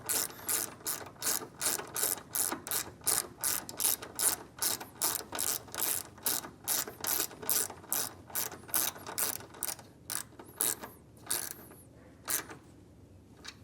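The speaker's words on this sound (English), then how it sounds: "for this particular post, I'm using a 5/16 socket" A hand ratchet with a 5/16 socket tightens a post on an air suspension compressor setup for a 2024 Ford truck: rapid, crisp clicking in steady rhythmic bursts, close and loud, slowing and thinning toward the end.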